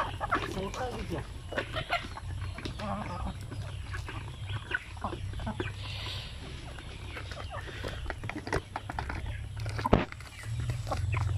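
Shamo gamecocks cluck and murmur in a netted enclosure, soft and steady with occasional louder calls, while someone talks nearby.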